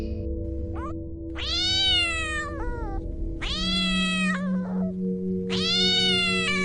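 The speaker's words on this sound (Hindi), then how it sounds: "एक बिल्ली के रोने की आवाज़ थी।" A cat cries out in three long, drawn-out meows with short chirps between, close and loud over a steady low hum.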